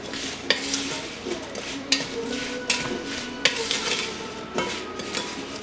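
A utensil stirs caramel apple filling in a pan. Regular scraping strokes, about one every second, knock against the pan over a low sizzle, close up, with no talking.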